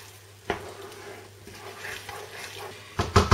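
Mushroom risotto being stirred in a pan after parmesan is added, soft scraping and wet sloshing with a few sharper spoon knocks on the pan, close and alone.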